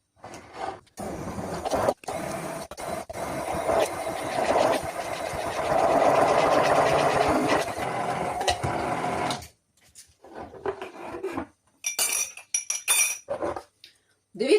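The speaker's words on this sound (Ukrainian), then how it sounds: "беремо Не зря куплений погружний блендер. Засовуємо його сюди і блендеримо." An immersion blender whirs through a thick cream for several seconds, loud and steady in the middle, between quieter clinks of utensils and short pauses.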